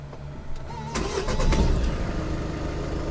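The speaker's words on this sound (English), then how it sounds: "start the car," A Seat Leon's engine cranks briefly and catches, then settles into a steady idle, heard up close.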